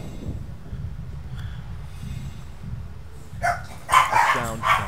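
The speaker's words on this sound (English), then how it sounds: "Dogs! Why do you have to bark when I'm recording, you stupid dogs?" Several dogs bark close by in quick bursts toward the end, sharp yips rising over a low steady background of game music.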